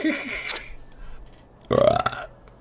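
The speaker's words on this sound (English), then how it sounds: "I love a big belch like that." A loud, drawn-out belch from a Starbound simple vore mod, rising in pitch and standing alone near the end after a softer, muffled stretch of game sound.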